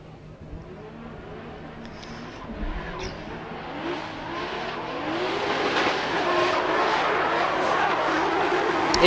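Drift cars race at a touge event, engines building from a distant roar to a loud, rising rev with a hint of tire squeal as the run gets underway, under a commentator's voice.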